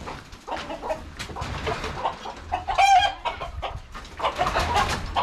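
Chickens cluck and squawk as people try to catch them outdoors beside a pond, a busy stream of close clucking with one sharp, loud alarmed squawk in the middle.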